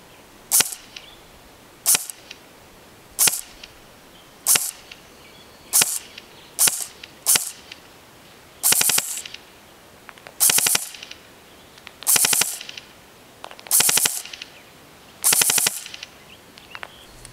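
A Smith & Wesson M&P 15 M4 carbine airsoft electric rifle fires outdoors at a target 150 feet away, giving about a dozen short bursts and single shots of sharp cracking reports, evenly spaced roughly every second, with quiet pauses between them.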